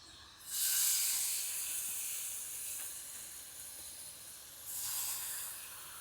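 Fish is dropped onto a hot oiled stone and fries with a loud, bright sizzling hiss that swells sharply, eases slightly, then surges again as more pieces hit the surface.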